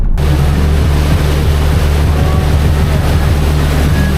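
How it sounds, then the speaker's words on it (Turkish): A tour boat's engine drones steadily and loudly on the open sea off Adrasan, Turkey, with constant rushing wind and water noise. "Evet arkadaşlar şu anda teknemiz hareket ediyor"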